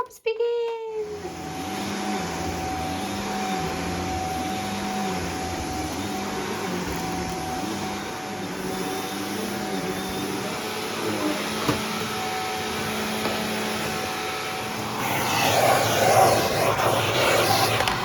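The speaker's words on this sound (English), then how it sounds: "it'll keep me warm as well, moving about with my vacuum" A vacuum cleaner hoovers around a house, its steady whining motor drone running continuously and close by, with a louder burst of suction near the end and a voice speaking over parts of it.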